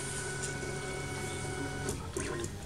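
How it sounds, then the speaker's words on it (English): RB3 3D printer homing before its bed-leveling sequence: a steady, close motor whir with faint mechanical ticks running throughout, no voices. "the printer will now home on its location"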